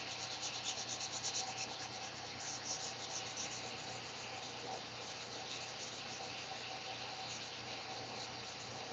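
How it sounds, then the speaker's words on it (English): Steel knife blade being hand sanded with fine 1,000-grit sandpaper at a forge, a steady close scratchy rubbing that carries on without a break and with no talk. "Hand sanding some steel."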